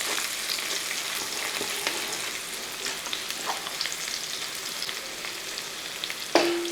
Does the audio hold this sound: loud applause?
no